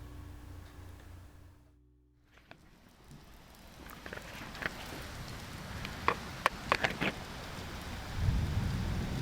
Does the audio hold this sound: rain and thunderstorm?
yes